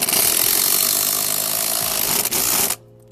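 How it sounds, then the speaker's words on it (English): Impact driver driving a screw into a railway sleeper bracket with no pilot hole, a loud, continuous grinding whir that runs steadily and then cuts off sharply near the end. "I'm going to use an impact driver, but you can use a drill as well."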